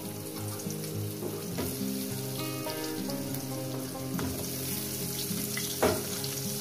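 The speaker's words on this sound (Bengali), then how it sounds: "আলুটা খুব সুন্দর করে লাল লাল করে ভেজে নেবো" Potato pieces fry in very hot oil with turmeric and salt, a continuous hissing sizzle held at an even level beneath a tonal background melody.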